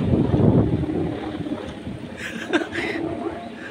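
Strong wind buffets the microphone at an open kite-flying field, loud rumbling gusts that ease off, with faint higher tones briefly cutting through near the end.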